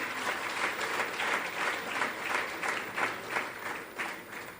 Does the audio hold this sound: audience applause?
yes